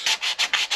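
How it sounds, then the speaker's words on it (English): Sandpaper rubs back and forth over the wooden back of a handmade mandola, five even strokes in quick rhythm, close and clear, clearing off stray glue marks. "Now we can give it a good sanding on the back"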